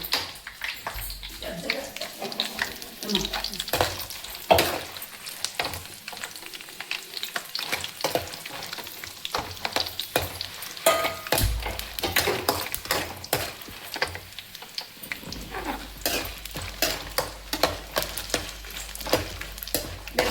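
Gongura leaves frying in a pan with tamarind, onion and curry leaves, a continuous sizzle under frequent clattering stirs and scrapes, close and busy throughout.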